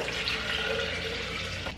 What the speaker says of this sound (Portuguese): Vou colocar um litro de água gelada.